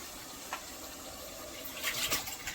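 Water poured into a pot of mutton for biryani, a soft steady trickle with a few splashy bursts toward the end, quiet and close.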